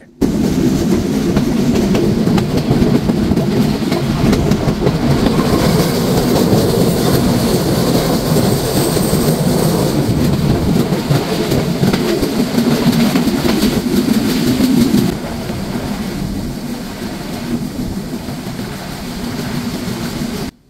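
Dhumketu Express passenger train between Rajshahi and Dhaka running past Shahid M Mansur Ali station, a loud continuous rumble and rattle of wheels on rails heard from onboard, easing slightly in level near the end.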